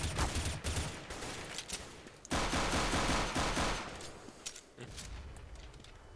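AK rifle fire in the shooter CS:GO on the Dust II map rattles out in rapid, loud bursts with short gaps, then trails into scattered quieter shots.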